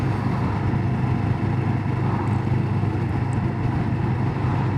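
A CFMoto 700CL-X Sport motorcycle pulls away from 30 mph in sport mode, a steady loud engine drone mixed with road and wind noise, with no clear rise in pitch.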